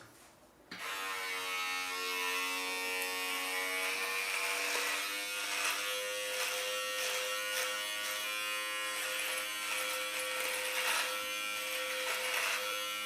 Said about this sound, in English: So now it's time to try this trimmer.